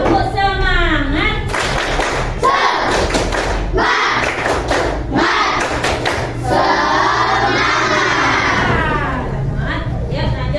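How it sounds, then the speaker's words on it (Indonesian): Schoolchildren in a classroom perform a rhythmic clap-and-shout chant, sharp rounds of hand claps and thumps punctuating loud group chanting voices, near and energetic throughout. "Tepuk semangat."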